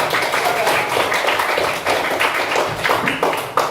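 Steady applause from a classroom audience cheering on a student group before their drama performance, dense continuous clapping throughout with a lively, crowded texture.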